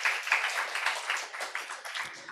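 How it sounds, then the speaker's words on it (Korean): Church congregation at a Korean Sunday worship service applauds, a dense, sustained wash of many hands clapping at moderate loudness for about two seconds, with no voices standing out. "우리 하나님 박수 올려드려요"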